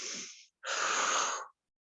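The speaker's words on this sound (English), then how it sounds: "I'm going in through my nose and out through my mouth" A person exercising breathes in through the nose, then after a short pause breathes out through the mouth in a longer, louder, airy exhale, both close and alone.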